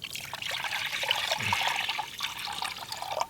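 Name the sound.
water poured into a pot for an apple drink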